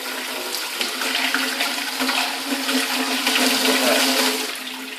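Kitchen tap running full after a leak repair, flushing air and brass filings from the line, a steady loud rushing of water with slight spitting, close and alone.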